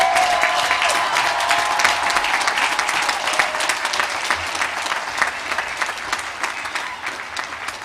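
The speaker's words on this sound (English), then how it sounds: "Please join me in applauding all of our doctors of optometry." A commencement crowd at Pacific University applauds new doctors of optometry, a loud, sustained roar of many hands clapping that holds steady for several seconds and tapers slightly at the end.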